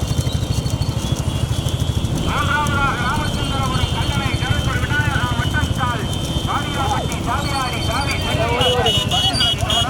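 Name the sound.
bulls running in a race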